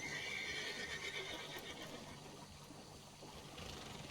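A horse whinnies and neighs in Red Dead Redemption 2, with faint hoof clip-clop and a watery outdoor ambience in the background, all quiet with no speech.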